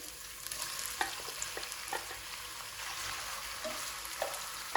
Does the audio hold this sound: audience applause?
no